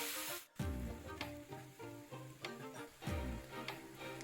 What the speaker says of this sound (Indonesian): Nah, kemudian kita masukin makaroninya yang sudah direbus,